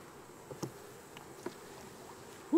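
Honeybees in an open hive give a faint, steady low buzz with a few soft knocks and clicks from the hive frames.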